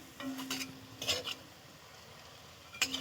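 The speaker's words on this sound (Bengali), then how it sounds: "বড়াগুলো আমার দু পিঠ করে উল্টে দিলাম, প্রায় ভাজা মতন হয়ে এসেছে" Bottle gourd leaf fritters fry quietly in a pan after being flipped to both sides. A faint, steady sizzle runs beneath a few sharp spatula scrapes and utensil clinks.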